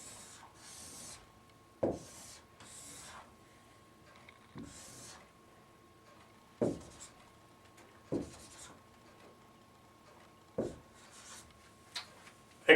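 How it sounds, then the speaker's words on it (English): A pen sketches a simple geometry diagram for a math problem, producing brief scratchy strokes and taps spaced a second or two apart against a quiet background. "Let me draw the picture."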